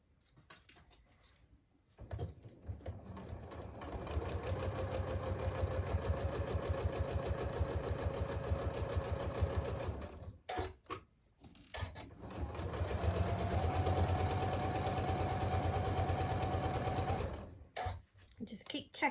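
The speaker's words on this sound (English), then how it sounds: "So I'm going to start and sew all the way around and then stop." A sewing machine stitches a quarter-inch seam around the edge of a fabric Christmas cracker, running steadily in two long bursts with a brief pause between them.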